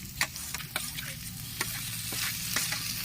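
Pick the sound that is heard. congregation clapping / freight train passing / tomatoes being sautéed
tomatoes being sautéed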